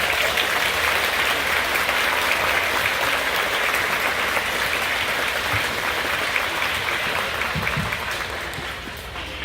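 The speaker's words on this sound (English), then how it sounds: "Let's give them a round of applause." A school audience at a middle school concert band performance gives a sustained round of thick, even applause that fades slightly toward the end, with only faint voices beneath.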